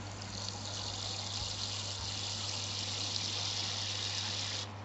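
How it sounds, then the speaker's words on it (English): Water poured from a container into a freshly cleaned snake's water bowl, a steady continuous trickle and splash lasting several seconds at close range, then stopping abruptly; no talk. "I'm going to put a bit of water in there for him."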